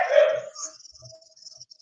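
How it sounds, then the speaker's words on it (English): A dog barks once loudly up close, followed by a few faint, fainter yips or whimpers in the background. "My dog is barking."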